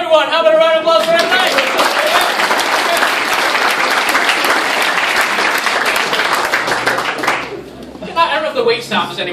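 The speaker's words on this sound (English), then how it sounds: "Have a round of applause for him." Audience at a magic show in Anaheim bursting into applause, dense sustained clapping for several seconds that fades out, with a performer talking before and after.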